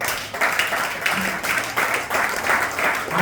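Church congregation applauding together, a steady wash of clapping in loud repeated swells that rise and fall roughly every half second to second, with some faint voices mixed underneath.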